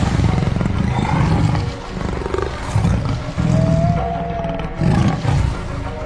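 A tiger roars in a jungle river scene, deep loud growling roars repeating in several surges over a rumbling background, close and dominant with no talking.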